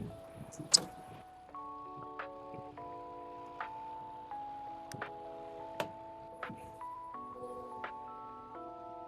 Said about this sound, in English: this tire pressure gauge keeps beeping in my ear every time